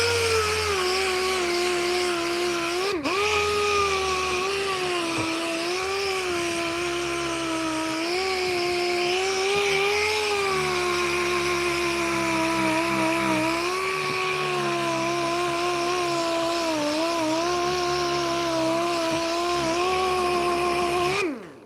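Pneumatic air sander working on an oak picture frame, a loud, steady high-pitched whine with a shifting tone as pressure on the wood changes, running for about twenty seconds without talk.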